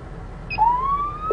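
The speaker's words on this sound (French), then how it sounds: "Il y a 5 sortes de sirènes." A single police siren tone sweeps upward and holds, rising from a quieter background into a clear, fairly loud wail over about a second.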